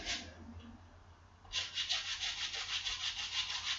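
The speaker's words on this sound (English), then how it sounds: "so we just sand it a little bit" Hand-sanding a wooden model boat hull: after a quiet stretch, steady rhythmic rasping strokes start and continue close up, with no talk.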